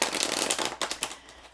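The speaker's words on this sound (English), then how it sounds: "I am going to be shuffling the cards and kind of drawing them out one by one." Tarot cards shuffled by hand, a run of quick riffling bursts and soft slaps up close with short pauses between them and no talking.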